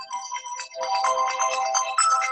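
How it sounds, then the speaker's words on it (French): A mobile phone ringtone chirps in a repeating melodic pattern, bright and fairly loud, with a short pause early before it continues steadily to the end, with no voices over it. "Donc là, le téléphone essaie de sonner en même temps."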